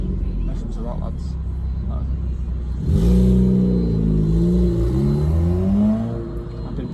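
Inside a 315 bhp Vauxhall Astra VXR with a blowing exhaust, the engine rumbles low and steady, then climbs into a louder rising rev halfway through, while a voice talks over it.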